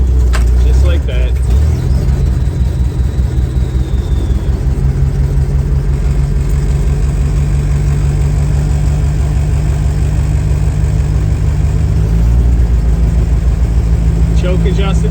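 Engine of a 57-year-old International Scout idling to warm up in freezing winter weather, a loud, steady low rumble with a faint rhythmic pulse, a short rev near the start, and talk over it.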